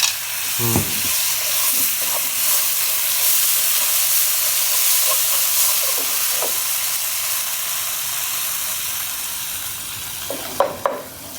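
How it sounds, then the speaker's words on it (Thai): Chili curry paste fries in a pan over very low heat as coconut milk is added a little at a time, giving a steady, close sizzling hiss throughout with a few light scraping stirs near the end. "ถ้าเราคั่วแบบนี้เราต้องเอาไฟอ่อนสุดๆเลยนะคะ"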